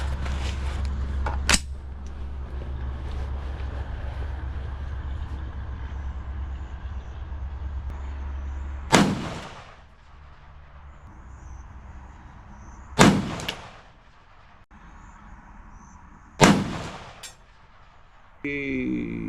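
Three sharp, loud reports from a Ruger SFAR rifle fired at a distance range, spaced several seconds apart, each ringing out over quiet outdoor air after a low idling rumble fades.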